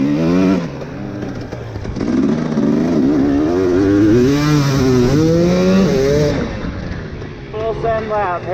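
A Honda CRF150R dirt bike on a track lap, its engine loud and close as it revs up and down through the gears, with wind noise running throughout.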